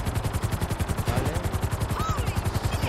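A helicopter in Grand Theft Auto thumps with rapid, evenly pulsing rotor beats, loud and close, steady throughout with a brief whine partway through.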